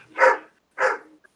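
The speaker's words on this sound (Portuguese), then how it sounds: "Olha o cachorro, olha o cachorro" A dog barks twice in close succession, two loud, near woofs with a short gap between them, heard alone without talk.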